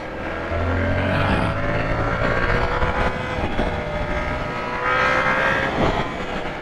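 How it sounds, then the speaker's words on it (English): A Yamaha R7 with its CP2 twin-cylinder engine ridden in damp conditions, giving a steady engine drone with rising and falling pitch under heavy wind rush, loud and continuous throughout with no voices. "So that CP2 engine is, as always, a lovely, lovely engine."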